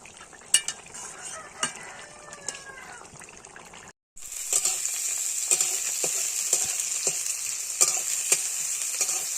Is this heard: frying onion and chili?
yes